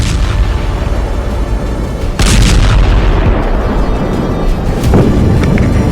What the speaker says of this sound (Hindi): लेबनान की राजधानी बेरूत में कई शक्तिशाली विस्फोट हुए।